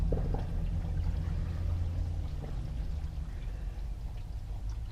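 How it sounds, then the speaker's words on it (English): Soapy gray tank water from an RV at an RV park rushes out through a sewer hose in a steady, close, continuous gush of flowing and pouring liquid. "open up the gray tank, and let the gray tank flush out the sewer hose"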